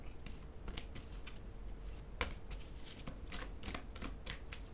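Tarot cards are shuffled and drawn, a soft, steady riffling patter broken by one sharper snap near the middle, faint and close.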